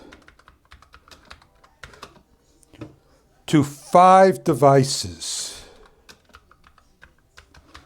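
Rapid clicky keystrokes on a mechanical gaming keyboard patter steadily, close up, pausing briefly while a person speaks in the middle.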